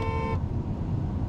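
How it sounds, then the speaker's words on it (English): A car horn honks steadily for a moment at the start while driving, then cuts off, leaving low road and engine rumble inside the moving vehicle. "y'all going to hear me honk"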